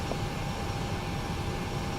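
Engine number two of a Boeing 737NGX spooling up in the FSX flight simulator, a steady, loud jet whine and rumble holding even throughout with no voices.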